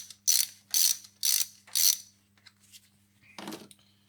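A ratchet loosens bolts on an aluminum cylinder head in four quick, evenly spaced clicking bursts, followed by fainter ticks and one last metallic clack, close up with no talking.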